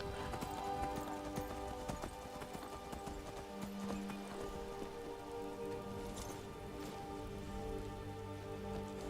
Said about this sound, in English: I'm just taking my horse come through the graveyard